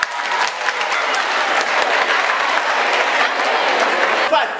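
Students at a senior high school tourism club gathering clap for the science students, a dense, loud burst of applause that carries on steadily with faint voices mixed in.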